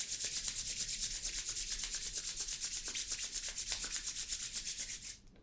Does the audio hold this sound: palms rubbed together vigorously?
yes